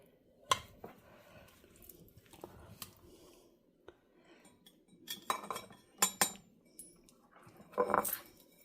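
A utensil cuts into a baked John Wayne cowboy casserole topped with biscuits, giving faint scattered scrapes and clinks against the dish, with a few louder metallic taps toward the end and no talking.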